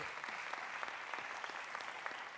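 A church congregation applauding, a steady dense patter of many hands clapping together throughout, fairly distant and even in level, with no voices standing out.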